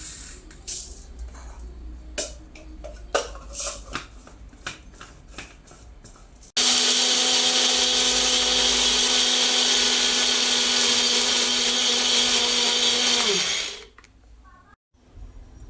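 After a few scattered clicks and rattles, a mixer grinder roars to life, whirs loudly and steadily for several seconds while powdering roasted black urad dal, then winds down.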